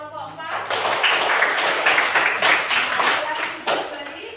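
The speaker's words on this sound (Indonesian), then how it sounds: "tepuk tangan untuk kelompok 4" A classroom of students clapping together for a group during a mathematics lesson, a dense burst of hand claps filling the space for several seconds, with voices talking over it.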